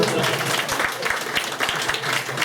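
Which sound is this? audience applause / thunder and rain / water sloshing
audience applause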